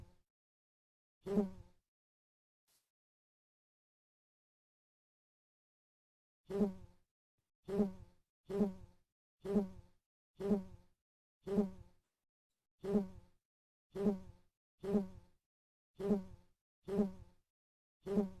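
Buzzy bee tones from a pattern-matching puzzle game, one lone buzz, a long silence, then a steady run of short buzzes about a second apart.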